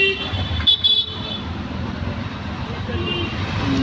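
An auto rickshaw riding through traffic toward Virar station, with a short, sharp horn toot near the start over a continuous bed of engine and roadway noise. Faint voices are also present.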